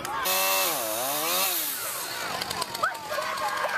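A chainsaw cuts through a wooden pole, loud and close, its engine pitch rising and falling as it bites into the wood before settling into rougher cutting noise.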